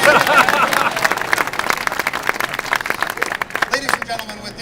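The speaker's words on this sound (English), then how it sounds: "gets more applause than anybody" A conference audience claps steadily for a few seconds, the applause loud at first and gradually tapering off.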